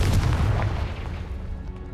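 Confringo fire spell exploding in the video game Hogwarts Legacy, a loud booming blast with a heavy low rumble that decays over about two seconds, no talking.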